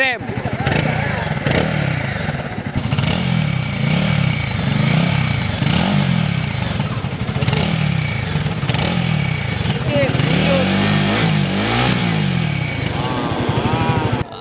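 A Royal Enfield Guerrilla 450 motorcycle engine rumbles loudly up close with rhythmic revving swells, rising in pitch as the throttle is worked, with a voice briefly heard.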